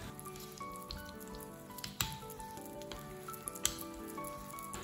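Pancake-style galette batter frying in hot olive oil inside a cookie cutter in a pan, a steady close sizzle with scattered pops and crackles, no talking.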